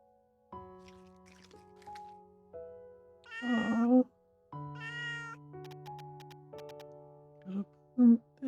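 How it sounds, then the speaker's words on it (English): Cartoon cat in the Little Witch in the Woods video game meows several times while eating crown apples, the bright short cries standing out over a calm game music backdrop. "Cat ate the crown apples."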